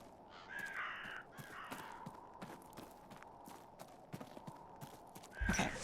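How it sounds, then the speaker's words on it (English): A loud crow caws a few harsh times in The Séance of Blake Manor, set over quiet outdoor game ambience with soft hoof-like footsteps. "God, that's a loud-ass crow."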